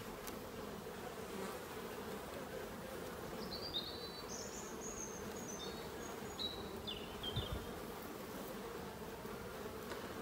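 A steady, low buzz of honey bees around a hive fills the background continuously, with faint high bird chirps drifting in now and then.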